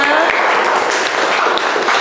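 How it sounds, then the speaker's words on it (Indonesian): A class gives a round of applause at the end of a lesson session, a loud, continuous wash of many hands clapping close by, with voices mixed in beneath. "Boleh tepuk tangan dulu dong untuk kita semua."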